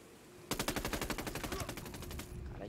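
A rapid burst of automatic gunfire in a video game, about twenty evenly spaced shots in under two seconds, loud and close, after a quiet start.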